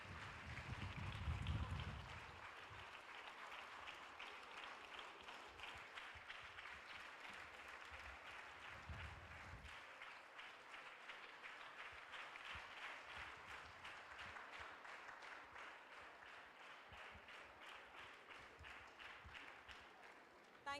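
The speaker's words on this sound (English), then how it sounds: "You can continue clapping because clapping has proven to, maintain your blood pressure levels." An audience claps at a mental health seminar, sustained dense applause that runs steadily for about twenty seconds in a large room, with a brief voice and low thumps near the start.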